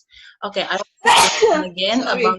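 A single sneeze bursts out loudly in a classroom during a micro-teaching lesson, with the teacher's voice talking just before and right after it.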